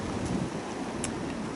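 Blustery wind buffeting an outdoor allotment plot as rain begins, a steady rushing roar with microphone rumble and no voices.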